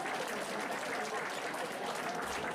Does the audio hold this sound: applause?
yes